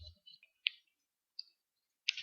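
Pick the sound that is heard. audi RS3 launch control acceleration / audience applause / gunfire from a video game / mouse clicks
mouse clicks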